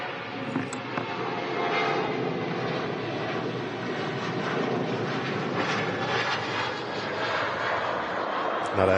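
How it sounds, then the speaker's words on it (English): Boeing 737-800 departing Manchester Airport for Dalaman: a steady, loud jet engine roar with a broad rushing hiss that holds constant throughout, heard from a distance with faint voices underneath. "That aircraft, 737-800 off to Dalaman."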